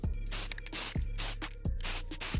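Five short hissing bursts of spray paint in a steady rhythm, each preceded by a dull low thump, close to the listener.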